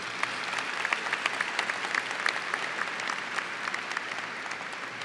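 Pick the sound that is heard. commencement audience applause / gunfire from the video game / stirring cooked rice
commencement audience applause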